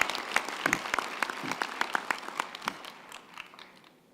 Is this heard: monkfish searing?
no